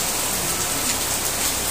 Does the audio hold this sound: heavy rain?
yes